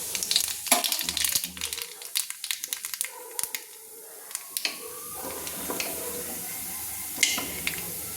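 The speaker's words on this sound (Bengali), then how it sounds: "তেলটা গরম হয়ে গিয়েছে। তো এই সময় আমি দিয়ে দিচ্ছি ফোড়ন। আমি দিয়ে দিচ্ছি দুটো গোটা শুকনো লঙ্কা, দিয়ে দিচ্ছি আমি 1/2 চামচ কালো জিরে" Dried red chillies and nigella seeds hit hot oil and sizzle, with a burst of crackling and spattering that settles into a softer, steady fry at close range.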